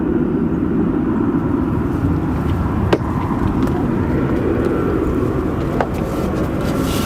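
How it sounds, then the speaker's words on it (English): A United Airbus A319 at O'Hare airport gives a loud, steady broadband jet roar that holds without a break, with a couple of faint clicks over it. "You got the United A319 here."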